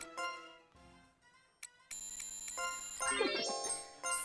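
Witch Bell item activated in the Labyrinth of Refrain video game: bright chiming bell tones and synthetic ringing effects, with a sustained shimmering chord and a rising sweep toward the end.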